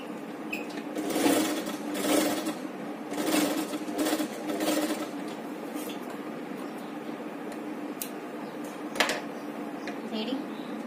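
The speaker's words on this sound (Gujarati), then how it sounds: "હવે અહીંયા આપણે આ સિલાઈ લગાવી દેવાની છે બે વખત સિલાઈ લગાવી દેવાની" A sewing machine stitching a Bombay katori on a blouse runs in a few short whirring bursts, then softer ticking, close by, as someone talks over it.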